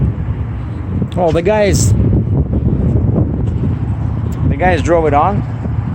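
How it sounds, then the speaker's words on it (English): Strong wind roars steadily into the microphone beside a loaded Kenworth heavy-haul truck, a loud, constant low rumble under someone talking. "Sorry, it's very windy"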